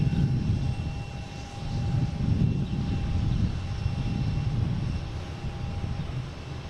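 A WestJet jet airliner at Boston Logan airport gives off a steady, loud engine roar with deep low rumble and a thin whine running through, sustained without a break and with no voices.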